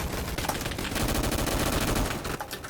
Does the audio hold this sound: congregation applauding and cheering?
no